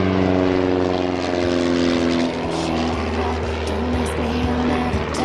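A Bücker Bü 131 Jungmann propeller biplane flying at an airshow, its engine droning loudly and steadily with a strong harmonic buzz that shifts slightly in pitch as it passes.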